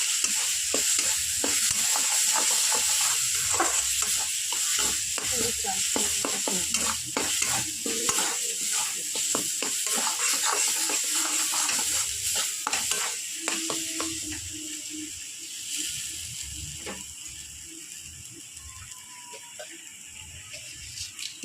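Coconut-stuffed ash gourd stirring and frying in a pan with turmeric and salt, with steady sizzling and repeated scraping strokes of a spatula throughout, close and fairly loud, fading slightly toward the end.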